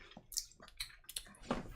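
Whisky, a cask-strength Benromach or Buffalo Trace bourbon, is poured from a bottle into a glass as soft splashes and drips, quiet and close, with no voices.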